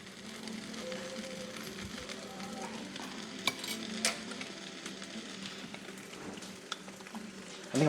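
A kimchi dish with sauce sizzles steadily in a hot pan while a utensil stirs and scrapes, with occasional clinks against the pan.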